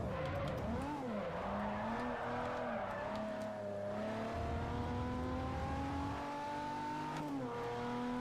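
Forza Motorsport 4 race car drifting, engine droning at steady revs while tyres squeal and skid continuously through a long slide, loud and close with pitch swells as the throttle changes.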